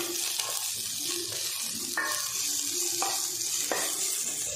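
Cabbage, peas, beans and carrot sautéing in a pan over a low flame for vegetable soup, a soft steady sizzle with periodic scraping strokes of a spatula, quiet and close.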